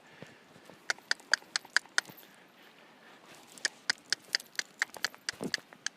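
A horse backing up on a trail, its hooves striking the ground in two quick runs of sharp, distinct clip-clops, close and fairly clear against a quiet outdoor background.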